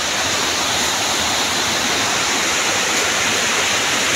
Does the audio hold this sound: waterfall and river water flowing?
yes